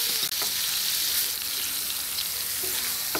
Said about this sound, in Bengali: এখন নেড়ে চেড়ে পোটাকে রান্না করে নিতে হবে